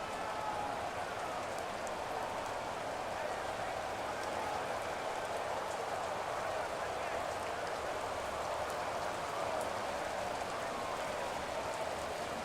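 Steady rain falls during a football game, a constant hiss of drops on surfaces with no break, moderately loud and even throughout.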